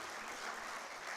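A brief, dense burst of audience applause rises for a group of children after a Bible lesson about the twelve tribes of Israel. The clapping stays steady and close throughout.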